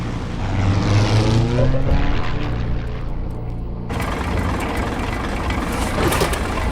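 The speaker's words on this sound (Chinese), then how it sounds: "我已经加到最大了，发动机现在是满功率" A propeller aircraft engine in a wartime air-combat drama runs at full throttle with a failing fuel supply and overheating, giving a loud, continuous roaring drone that shifts in tone partway through.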